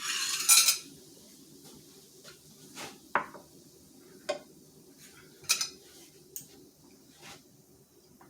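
Cutlery and dishes clink and clatter while kofte bowls are served, with a bright metallic rattle at the start, then scattered single clinks and taps of utensils against bowls in a quiet kitchen.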